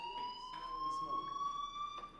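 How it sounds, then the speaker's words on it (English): A fire alarm sounds in the video game Life is Strange, a steady high electronic tone holding throughout at moderate volume under faint background voices and noise. "Hey, do you hear that fire alarm?"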